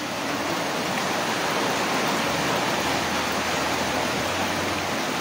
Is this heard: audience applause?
no